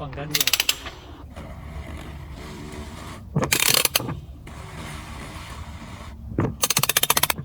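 Oil filter housing cap being loosened by hand tool on a BMW B48 engine, with three loud bursts of rapid ratchet clicking separated by quieter mechanical handling sounds, close up.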